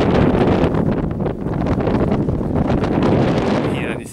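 Strong wind buffets an outdoor microphone in a steady, loud roar with gusty surges throughout, drowning out any other sound for the whole stretch.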